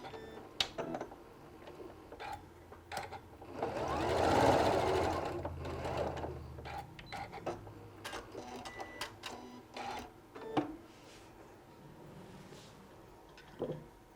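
A sewing machine runs a tight quarter-inch seam with a quarter-inch foot in one soft, brief whirring burst, surrounded by quiet clicks and fabric handling, faint and close.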